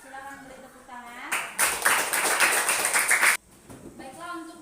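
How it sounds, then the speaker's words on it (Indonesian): Classroom applause for a student group's presentation, a dense burst of clapping lasting about two seconds, with a teacher's voice speaking before and after it. "Silakan beri tepuk tangan."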